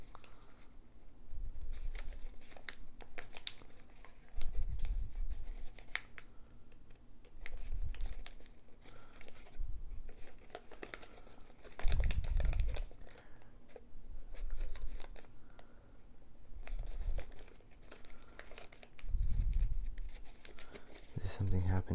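Origami paper crinkles and rustles in short, soft bursts every few seconds as pleats are folded for a paper mouse. The handling is close and intimate, with quiet pauses between the bursts.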